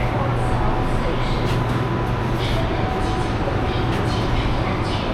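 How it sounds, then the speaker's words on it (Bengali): A Guangzhou metro train pulls away from the platform and carries on at speed, filling the space with a steady, dense rushing rumble and a faint whine. A voice is heard faintly under it. "এই আমাদের মেট্রো এবার ছেড়ে দিয়েছে"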